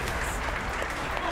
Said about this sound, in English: Colorado, give it a round of applause for your boy.